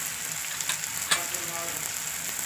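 Onion, tomato and spices frying in a home kitchen pan, a steady hissing sizzle with a few scraping stirs and one sharper knock, close and unbroken, no talk.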